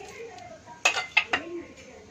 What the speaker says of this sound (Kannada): ಇವಾಗ ಇದನ್ನು ಮಿಕ್ಸಿ ಜಾರಿಗೆ ಹಾಕೋಬೇಕು.